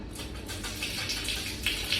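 Water running through a plumbing diverter fitting, a steady hissing splash that flows continuously at moderate level, faint and close, with no speech.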